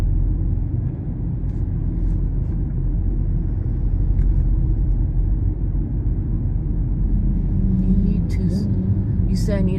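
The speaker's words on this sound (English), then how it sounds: "I'm in motion in this rush hour traffic" A car moves through rush hour traffic, its steady low engine and road rumble filling the cabin, with faint higher noises near the end.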